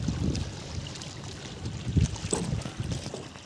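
Lake water rocks and laps at the shore in soft, uneven washes, close and low, with light wind noise and no talking.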